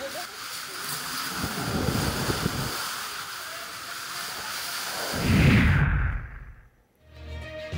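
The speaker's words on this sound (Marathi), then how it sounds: "वादळी वाऱ्यासह तुफान पावसानं थैमान घातलंय" Stormy wind during an unseasonal rainstorm in Ahmednagar roars in strong, uneven gusts that buffet the microphone with a deep rumble, swelling near the end before briefly dropping away.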